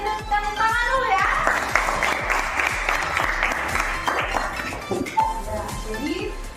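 A class of students applauds in a room, brisk clapping over a steady beat with voices and bits of music around it.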